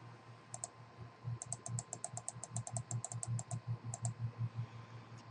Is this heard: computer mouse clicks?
yes